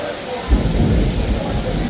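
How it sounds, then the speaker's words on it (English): Thunder and steady rain of a Caribbean thunderstorm, a close rumble swelling near the middle and holding as a dense, noisy roar over the constant hiss of the downpour. "And here's the thunder and lightning."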